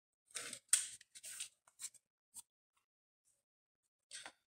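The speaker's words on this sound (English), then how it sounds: "You don't want to cut off very much, like just the little parts that are fraying." Scissors trim small fraying bits from a handmade costume armor piece, giving several quiet, brief snips in an irregular cluster, then a pause and one last snip, with no talk.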